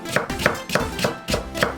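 A knife julienning a third of a carrot into thin strips on a cutting board: about six crisp, evenly spaced chops in quick succession, close and alone.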